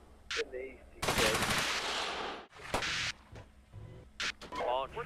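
Machine gun fire from a chess-themed tactical war video game, with bursts of rapid shots alternating with short gaps and louder volleys, mixed with someone talking.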